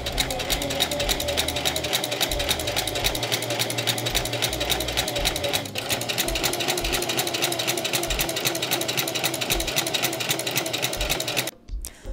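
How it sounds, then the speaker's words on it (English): A sewing machine stitches pressed fabric straps at a half-inch seam, a fast, even mechanical chatter running close and unbroken for several seconds before it stops abruptly. "Once the strap is pressed, we're going to sew it at 1/2 inch."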